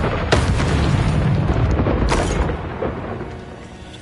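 Confringo blasting spell in Hogwarts Legacy on PS5, a loud booming explosion with sharp bursts near the start and again around the middle, trailing into rumbling debris, no talking.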